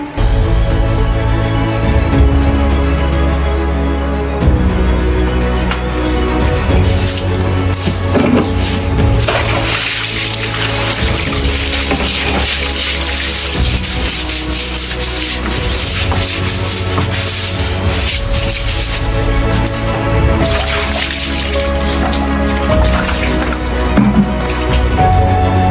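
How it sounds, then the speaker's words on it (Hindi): Water from a bucket splashes and pours steadily as feet are washed at home, a continuous loud rushing and rubbing texture with no speech. "बाल्टी की पानी भर चुकी है मेरी, फटाफट धो देता हूँ"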